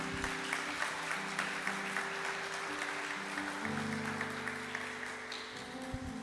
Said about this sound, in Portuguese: A igreja agora aplaude o Senhor.